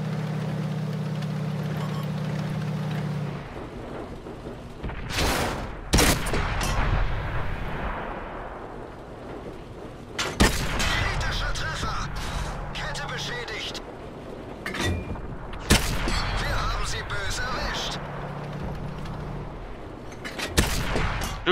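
Heavy tank cannon shots in the World of Tanks video game on Xbox One, several loud booming blasts spaced irregularly over a low engine rumble, with someone talking in between.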